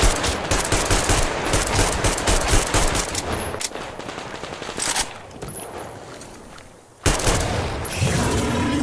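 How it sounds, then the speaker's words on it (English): Sustained gunfire in the video game Metro Exodus, with dense rapid bursts of automatic shots filling the first half, then thinning to quieter scattered fire before a loud burst returns. No voices. "Some shooting going out there."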